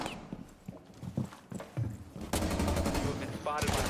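Video game gunfire: sporadic thuds and shots under a talking voice, then a loud sustained stretch of rapid automatic fire rattling continuously close by.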